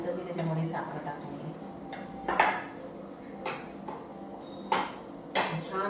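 Pumpkin halwa with khoa and sugar is stirred in a pan, with a spoon scraping and clanking against the metal in irregular strokes while someone talks over it.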